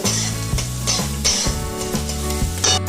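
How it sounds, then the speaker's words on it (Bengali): Onion stirred in oil and butter in a pan, with loud continuous sizzling and repeated scraping strokes, close up, while steady low-pitched music plays underneath. "একটু জাস্ট তেল আর বাটারের মধ্যে পেঁয়াজটাকে আমি একটু নেড়ে নেব"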